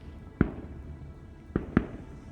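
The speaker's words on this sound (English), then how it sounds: "we got some fireworks going off out of the parking lot over there." Fireworks going off outside near a parking lot, three sharp distant pops, one alone and then two close together, faint and muffled against a quiet background.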